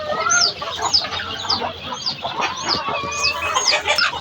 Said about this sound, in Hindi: शायद मुर्गी इतना चीख रही है बाबा को देखकर।